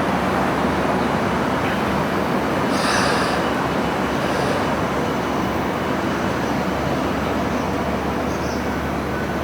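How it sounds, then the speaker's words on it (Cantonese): Hong Kong Light Rail Phase 3 train, cars 1094 and 1098, running out of service past platform 2 of Kin On stop on route 505, a loud continuous rumble with brief high wheel squeals. "Train will not carry passengers at platform 2."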